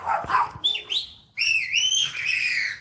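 A dog barks and yelps excitedly in an attack display, a few loud close barks followed by high whining cries, with no speech.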